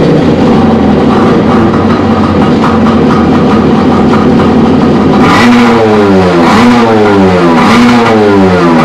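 A Wave Blaster personal watercraft engine, just refurbished, runs loud and close, idling steadily at first and then revving up and down in repeated surges during the second half, with no talking.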